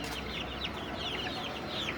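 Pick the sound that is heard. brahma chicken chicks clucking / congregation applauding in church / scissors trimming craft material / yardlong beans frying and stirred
brahma chicken chicks clucking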